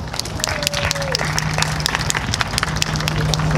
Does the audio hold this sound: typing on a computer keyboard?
no